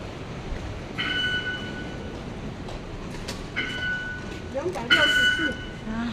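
A metro train runs through an MRT station with rumbling, repeated high squeals of brakes or wheels, and a steady mechanical drone underneath.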